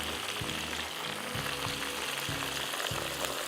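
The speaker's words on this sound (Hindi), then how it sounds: "इस तरह से आपने इसको फ्राई कर दिया।" Butterfly prawns deep fry in oil, giving a soft, continuous bubbling sizzle with faint low knocks at intervals.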